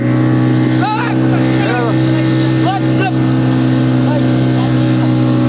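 A motorboat engine drones at sea near the Digha Mohana coast, a loud constant hum with people talking and calling over it throughout.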